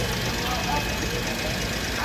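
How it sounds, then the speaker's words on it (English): Street traffic in Owerri, Imo State, Nigeria: a steady hum of car engines and passing vehicles with people's voices mixed into the street noise. "you will just be hearing the sound of car and the passerby"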